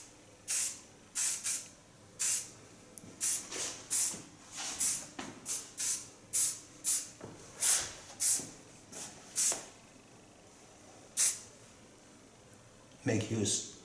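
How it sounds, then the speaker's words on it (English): Strong hairspray hisses from an aerosol can in a rapid series of short, sharp bursts, some clustered and some spaced apart, close and fairly loud while styling a trendy haircut, ending with a brief rustle. "Finish it with a strong hairspray."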